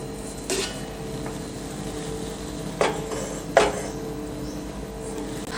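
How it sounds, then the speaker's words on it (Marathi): Three sharp metallic taps on a metal cake tin filled with ragi cake batter ring out at spaced intervals against a quiet background hum, close and fairly loud. "आता हा केक टीन असा दोन ते चार वेळा असा छान टॅप करून घ्यायचा"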